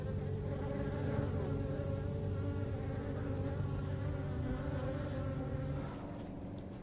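Dense, continuous buzzing of many bees swarming close by around a ten-year-old hive built inside a concrete block wall, emerging from a seam; loud and steady, easing slightly near the end.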